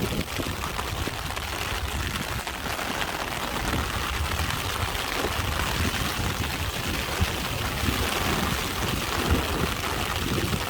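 Heavy rain pours steadily while fishing outdoors, a dense, even hiss of drops drumming on surfaces and water close by, with no clear talk over it.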